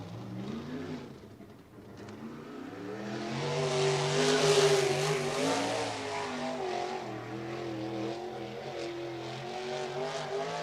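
A USAC sprint car roars around the dirt oval at Red Dirt Raceway in Oklahoma, its engine rising from a distance to a loud, rasping pass at close range, then holding a steady, droning note as it carries on down the track.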